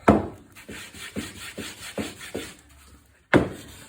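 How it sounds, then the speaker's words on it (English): Close, light scratchy strokes of sandpaper rubbing across stripped Victorian walnut, about seven rhythmic passes with a brief pause before a final stroke. "Not a heavy sand, just a very light sand, because there's no fractures or damage to the wood"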